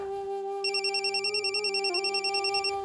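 An indoor telephone rings alone in a steady electronic warble, with repeated trilling bursts after a brief lead-in, fairly clear and close.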